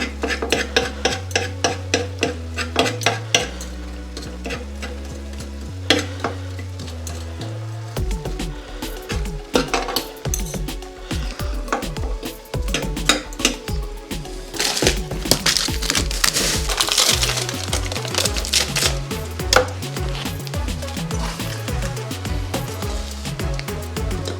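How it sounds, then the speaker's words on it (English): Two forks shred meat as it cooks in a pan, giving scattered scraping and clinking against the pan under loud, rhythmic background music. "I'll use 2 forks to shred it while it's cooking"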